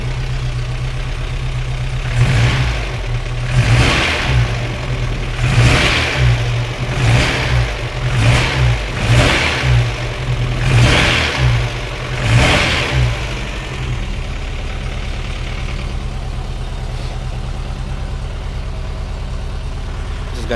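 A rough mid-pitched old FSO Polonez engine, shaking and prone to stalling, revs repeatedly in short surges over a steady idle, about seven bursts, then settles back to idling.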